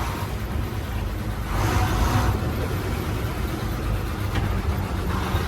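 A heavy truck rolls along the road near Gondal, its steady mid-pitched engine drone and road noise continuous, swelling slightly midway, with no talk.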